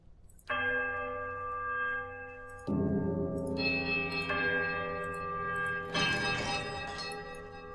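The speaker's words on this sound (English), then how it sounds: "Alright, so the bells." Bells rung in the video game Pillars of Eternity chime one after another, each rich metallic tone sustained and ringing on, close and loud with no talk over them.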